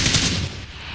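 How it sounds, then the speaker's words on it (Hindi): Gunfire in the shooter game PUBG rattles off in a quick rapid burst, loud and close, then tails away within a second. "इधर से भी शॉट आया नीचे से आया"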